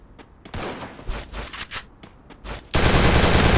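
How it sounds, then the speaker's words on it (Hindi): Shotgun fire in a battle video game: several sharp, loud bursts come in quick succession, then a dense, sustained roar of gunfire fills the last second. "घर के अंदर 2 गोली शॉटगन से टीम वाइप आउट हो गया।"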